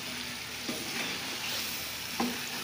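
Chicken Shanwari karahi with fully mashed tomatoes fries in a pan under a steady, loud sizzle, with the soft scrape of stirring breaking through twice, once near the start and again near the end, and no voices.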